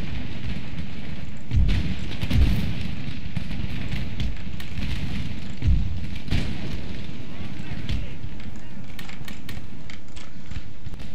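Musket and artillery fire in the strategy game Empire: Total War during a battle with Kurdish hillmen: a dense, continuous roar of distant volleys with heavier low booms, loud and constant.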